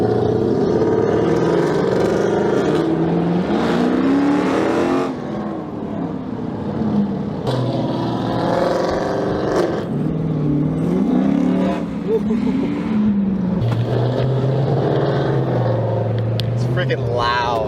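Catless Hemi V8 car engine revs hard in repeated loud bursts, deep rumbling rising and falling with throttle blips and a rough, unmuffled idle between them; voices talk over the engine noise.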